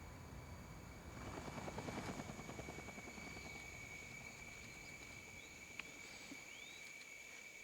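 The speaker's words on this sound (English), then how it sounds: "I'm going to take the chopper today." A helicopter in the video game Entropia Universe: a whirring rotor drone swells loud for a few seconds, then settles into a steadier, softer hum beneath constant high electronic tones.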